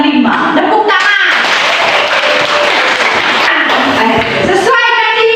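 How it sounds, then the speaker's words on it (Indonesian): A classroom group claps hands loudly and steadily for several seconds, with voices talking over the start and the end. "Tepuk tangan"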